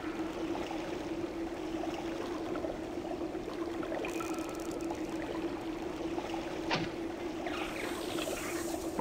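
Steady rushing of running water in a Thief fan mission, a constant broadband wash with a low steady hum beneath, continuing without letup and nearly covering a few faint clicks and thuds from the game.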